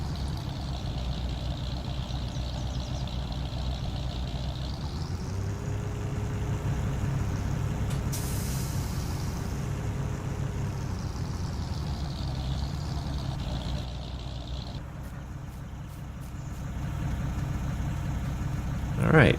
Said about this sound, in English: Let me get this truck situated here